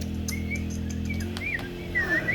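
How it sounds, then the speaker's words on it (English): Several small birds chirp and tweet in short rising calls during a high-school stage play of Snow White, scattered over a steady low hum of the hall, with no talk. "Why, you're nothing but little birds."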